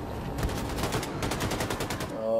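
Rapid automatic gunfire from a weapon in Wolfenstein 2, a dense stream of loud, close shots in quick bursts, with a heavier blast near the end.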